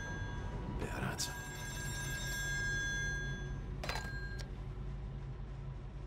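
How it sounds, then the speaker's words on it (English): A telephone rings twice in the video game Still Wakes the Deep, two short bright bursts of ringing over a low droning background hum. "Phone. Better answer."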